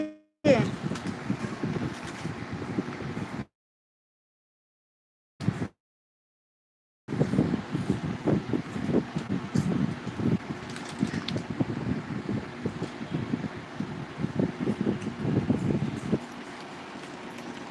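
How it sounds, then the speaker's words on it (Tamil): An electric fan blows on the microphone at a livestream, giving a steady loud rushing wind noise that cuts out briefly twice, with no other sounds. "கொஞ்சம் காத்துல புருன்னு சவுண்டு கேட்கும் தப்பாக எடுத்துக்காதீங்க ஃபேன் இருக்குது"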